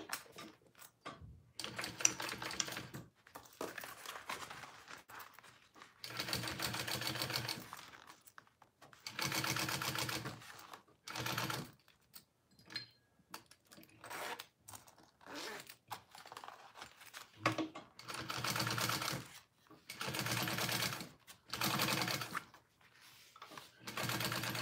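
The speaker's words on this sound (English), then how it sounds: "All right, I'm going to top stitch that." A sewing machine top stitching a barrel bag, running in repeated bursts of fast mechanical whirring and needle clatter separated by short stops, steady and close.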